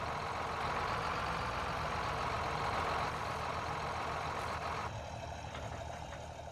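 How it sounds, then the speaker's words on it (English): A heavy tractor engine in Farming Simulator 19 rumbles and rattles steadily at moderate distance, easing slightly toward the end. "Listen to the rattle of that tractor just rolling over there."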